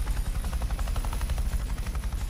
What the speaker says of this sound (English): Ah, it's the helicopter above.